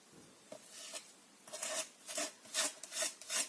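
Rough repeated scraping of structure paste across a stencil, a series of rasping strokes that grow longer and louder toward the end, each with a dry gritty texture, close up with no voices.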